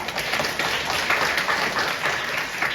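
Steady applause from an audience at a Korean university early childhood education practicum evaluation session in a hall, honouring the presenters, with dense even clapping throughout and no voices.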